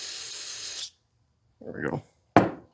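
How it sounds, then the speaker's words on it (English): A short burst of aerosol spray hissing onto a dirty used generator to clean off grime, followed after a pause by scraping and rubbing sounds and a sharp final scrub. "Spray that off."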